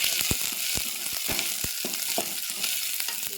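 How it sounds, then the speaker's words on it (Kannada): Onion and green chili fry with crackling mustard seeds in a pan, a constant loud sizzle with sharp spatula taps and scrapes at an uneven rhythm. "ಈಗ ಸಾಸಿವೆ ಚಟಪಟ ಇದಕ್ಕೆ ಉಳ್ಳಾಗಡ್ಡಿ ಮೆಣಸಿನ್ಕಾಯಿ ಹಾಕೊಂಡ್ರಿ"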